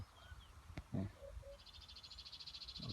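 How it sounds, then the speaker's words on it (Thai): A rice field frog croaks with a rapid, pulsing rattle that starts midway and continues to the end, faint and close over a quiet outdoor background. "กบฟางครับ"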